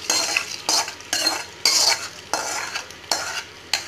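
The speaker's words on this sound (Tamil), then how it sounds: "இப்போது எல்லாம் முந்திரி எல்லாம் நல்லா வறுத்தாச்சு. இப்போ நம்ம இதில் கொட்டிடலாம்." Roasted cashews tipped into barnyard millet pongal and stirred, giving a series of scraping, clattering strokes roughly every half second, close and fairly loud with a faint sizzle between them.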